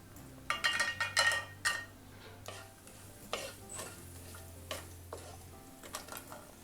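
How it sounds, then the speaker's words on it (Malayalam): Cashews and raisins fry in a pan with a faint sizzle, punctuated by clustered scraping and clinking stirs at the start and scattered lighter taps afterward. "റൈസ് കുക്കാവുന്ന ടൈമിൽ നമുക്ക് കാഷ്യൂവും പിന്നെ കുറച്ച് റൈസൻസും ഒന്ന് കുക്ക് ചെയ്തെടുക്കാം"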